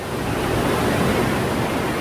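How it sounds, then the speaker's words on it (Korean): Ocean waves surge and crash inside a sea cave on the southern coast of Tanegashima, a loud, continuous booming roar of echoing surf and water with no clear breaks. "파도 소리 때문에 너무 무섭다 이거"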